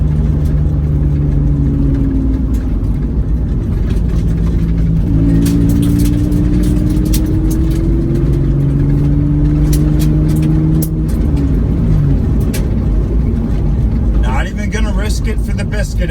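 A Mitsubishi 3000GT drives on a gravel road, its mid-pitched engine droning steadily and shifting in pitch, with crunchy gravel noise from the tyres and a voice talking over it at times.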